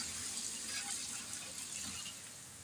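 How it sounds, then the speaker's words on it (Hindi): Yakhni broth pouring into a pot for partridge pulao, a steady close gushing splash of liquid with no talk. "मैं इसके अंदर यखनी डालूंगी"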